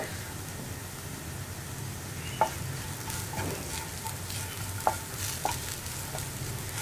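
Turmeric powder frying in coconut oil while being stirred, a soft continuous sizzle with gentle scraping and a few light utensil taps against the pan, fairly quiet and without talk.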